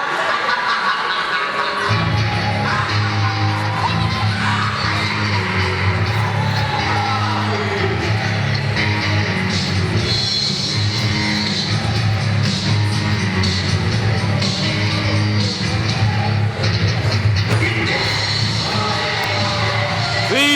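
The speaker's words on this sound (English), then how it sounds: "As you hear that reaction from the crowd" A wrestling crowd at a tag team title match in an indoor venue reacts to a team's entrance with a steady, loud roar of cheering and chatter, while an announcer talks over it.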